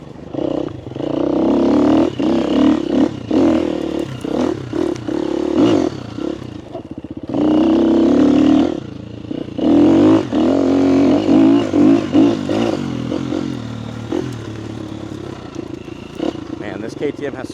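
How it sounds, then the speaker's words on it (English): A KTM dirt bike engine revs hard while lifting into a small wheelie on a rough trail, its buzzing note rising and dropping in repeated throttle bursts, loud and close, with occasional clatter. "I'll start off with a little wheelie here."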